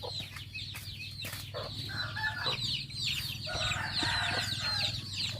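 Several hens cluck and squawk busily nearby, their calls overlapping in an uneven, chattering flurry over a low hum.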